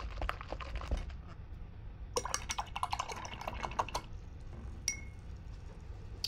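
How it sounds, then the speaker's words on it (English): An acrylic painter's brush is swished and rinsed in a jar of water, giving a few light splashes early on, then a busy run of watery clinks and sloshing against the glass in the middle, fading to drips. "now I'm going to wash my brush"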